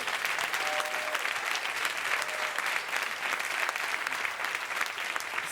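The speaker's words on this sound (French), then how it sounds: "Merci d'applaudir Rémi," Dense, continuous audience applause at a French comedy show, loud and sustained throughout with no pauses.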